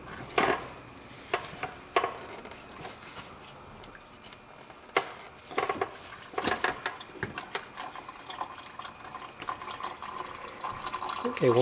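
Motor oil drains from the oil pan of a Honda Civic, a faint liquid trickle and splash under scattered clanks and knocks of tools, with occasional speech.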